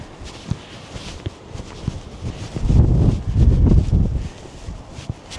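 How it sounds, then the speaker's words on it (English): Gusty wind at a lookout over Carnarvon buffets the microphone in low, rumbling blasts, strongest in the middle, with scattered soft rustles and thuds around it. "Very windy."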